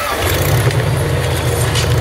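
An engine revving at a car show, a steady loud rumbling drone held for a couple of seconds without clear peaks.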